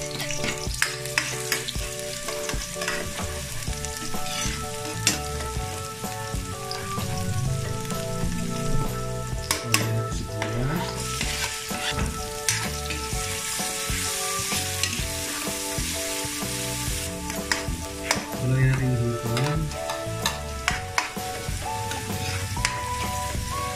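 Garlic fries in a hot pan as the first step for banana-blossom okoy fritters, with a constant oily sizzle and occasional stirring scrapes running under soft background music.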